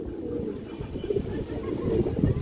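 Low, rumbling coos from an Indian high-flyer pigeon continue steadily at close range, swelling slightly toward the end with no voices.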